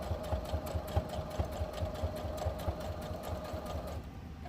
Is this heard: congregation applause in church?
no